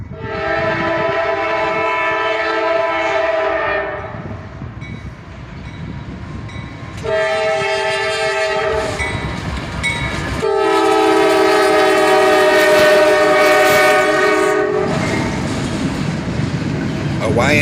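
A freight train led by a YN2AC44CW locomotive with a Tier 4 ST70AH second unit sounds long, loud horn blasts, three sustained chords over a steady rumble of passing cars.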